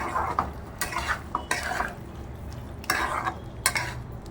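A spoon stirs besan papad curry with clove paste in a pan, giving repeated soft scrapes and clinks against the metal over a faint low sizzle, close and fairly quiet.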